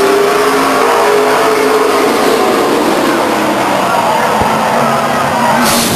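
Stock cars race around the oval at Stockton 99 Speedway, a steady loud engine roar holding for several seconds as a car slides sideways, with commentary over it.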